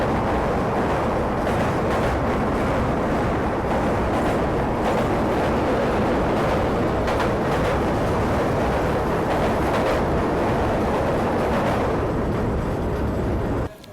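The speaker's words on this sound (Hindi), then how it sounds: "सामने से कोई तो ट्रेन आ रही है और ये ट्रेन, तो ये है ट्रेन नंबर 12435 जयनगर आनंद विहार गरीब रथ एक्सप्रेस।" A passing train, the Jaynagar–Anand Vihar Garib Rath Express, heard as a loud, continuous rumbling roar with rattling wheels that holds steady throughout before cutting off abruptly at the end, with no voices.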